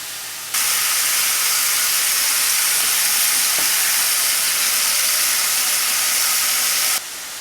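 Pork and ginger fry in a hot frying pan, a loud, steady, close sizzle that starts abruptly and holds evenly for several seconds before cutting off, with no voices.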